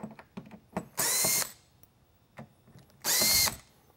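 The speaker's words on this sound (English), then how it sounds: "Remove the screws on both the driver's side and the passenger side that hold the top polycarbonate fixtures" Power drill backing screws out of a Sirennet SNLBL2 emergency lightbar's polycarbonate fixtures, two short loud whirring bursts with faint clicks and handling noises between them.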